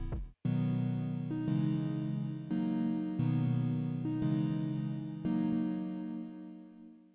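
Sustained synthesized chords change every second or so, rich and warm with a long fading tail at the end, no voices present.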